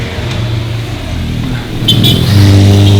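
A car carrying Hungarian travellers drives past on a road in the Carpathians, its engine rising steadily and growing louder as it approaches close by.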